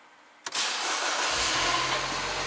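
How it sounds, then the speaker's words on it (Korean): A Mini Cooper S R56 with an ignition coil or spark plug fault starts up with a sudden burst and settles into a loud, close, uneven idle that runs on without talk. "점화 코일이나 점화 플러그에 문제가 생기면 그 피스톤에 고루게 전력 공급이 안 되기 때문에 결국은 찐빠, 엇박자 이런 것들이 생깁니다"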